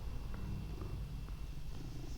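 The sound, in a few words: cat purring close to the microphone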